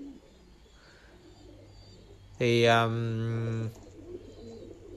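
A single loud, close pigeon coo of about a second rises over a quiet pigeon farm background, with a brief spoken word nearby.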